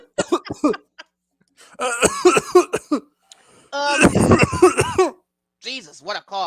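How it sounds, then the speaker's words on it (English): A person coughs in several hard bursts, loud and close, with short pauses between fits and a voice nearby. "Jesus, what a cough."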